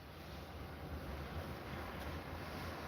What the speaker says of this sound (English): I'm by the water now.